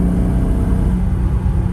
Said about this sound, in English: This car sounds so sweet, and it's the original exhaust.